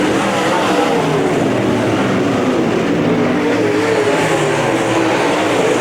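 UMP modified race cars roaring around Merritt Speedway, a dense continuous engine drone from several cars at once, loud and steady from mid-distance with no audible voices.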